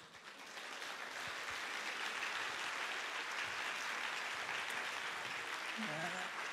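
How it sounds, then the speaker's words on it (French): Audience applause swelling within the first second into a steady wash of clapping from a sizable crowd, with faint voices near the end. "Et applaudissez-vous évidemment vous-même avant tout"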